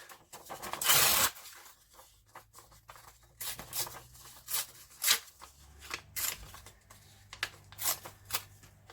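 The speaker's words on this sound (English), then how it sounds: "let's tear a bit of this off" A piece of material is torn off in one short, close, raspy rip, followed by quieter scattered crinkles and snipping handling noises in an otherwise quiet room.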